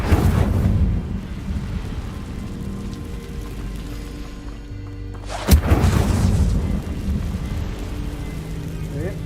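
A fire spell cast in the Hogwarts Legacy video game, heard as a sharp burst about midway through a loud, continuous layer of rumbling game ambience. A voice is faintly present in the background.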